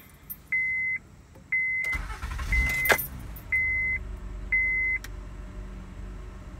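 After an O2 sensor repair, a car's ignition chime beeps in repeated tones and keys jingle. The engine then cranks and catches, settling into a low idle close by.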